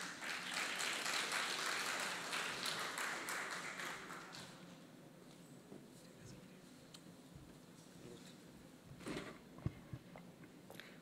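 Audience applause for speaker Carlos Cuello at a talk on road safety, a soft, steady patter of clapping in a hall for about four seconds before fading out into quiet room noise and a few faint taps.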